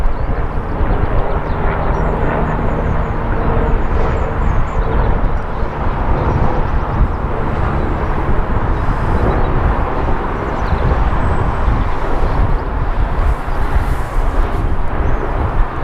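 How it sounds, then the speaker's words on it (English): A helicopter flies over the Altar Stones at Markfield, giving a steady, loud engine drone that holds constant for the whole stretch, with no talk over it. "it's a helicopter, look, so you should be able to hear that"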